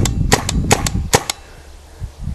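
A RAP4 T68 M4 paintball gun fires a quick burst of about eight sharp, snapping shots close by, evenly spaced at first and then trailing off into quiet handling noise.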